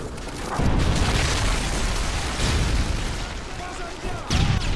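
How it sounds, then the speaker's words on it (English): In Modern Warfare 3, a predator missile strike produces a heavy, rumbling explosion that starts near the beginning and rolls on with booming debris. A second blast lands near the end, mixed with game chatter. "Friendly predator missile inbound."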